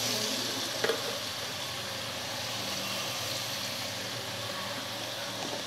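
Potatoes fry in a pan with whole spices, turmeric and salt, giving a steady, close sizzle that runs throughout, with a brief utensil clink near the start.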